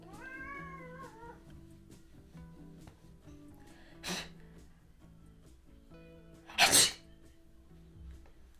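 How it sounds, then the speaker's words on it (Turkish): A cat sneezes during grooming with one sharp, close burst, a smaller sneeze a few seconds earlier, and a brief meow near the start, all over quiet room noise. "Hapşırttın."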